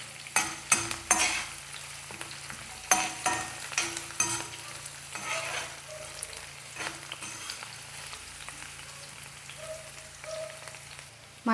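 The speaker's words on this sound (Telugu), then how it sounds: "అలానే కట్ చేసిన ఉల్లిపాయ ముక్కలు కరివేపాకు కూడా వేసుకుందాము. వీటిని ఒకసారి కలుపుకుందాం." Chopped onions and curry leaves sizzle in a pan for a brinjal curry cooked without water, with a steady close frying hiss broken by repeated scraping stirs near the start, then quieter crackling.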